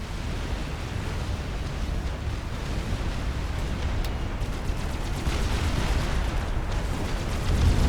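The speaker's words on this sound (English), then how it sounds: "that's how you do a defensive nuke" A nuclear missile detonates in Forged Alliance Forever, a dense, sustained rumbling roar that swells and rolls on for several seconds, loud and continuous without any voices.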